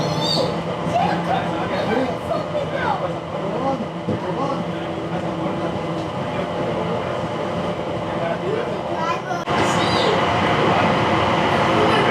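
Rumbling, rattling ride inside a moving airport tram with steady mechanical drone, while people talk in the background throughout.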